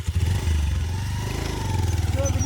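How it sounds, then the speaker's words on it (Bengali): A motorcycle engine chugs and labors at low revs with a rhythmic throb as the bike is pushed uphill, close by, with some clatter and faint voices underneath. "বাইক একটা জায়গার মধ্যে আমরা ঠেলিয়া উঠাইতে লাগে"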